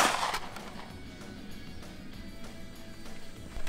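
A green tip rifle round strikes a Guard Dog body armor plate, giving one sharp, loud crack at the start that fades into a short ringing tail.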